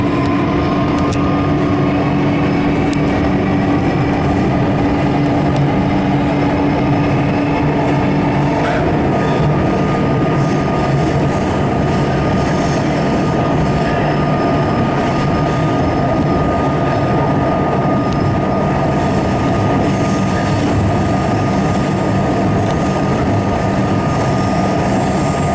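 A metro train rides through the city with its windows open, a loud continuous rumble of wheels and wind with a steady low drone that persists throughout.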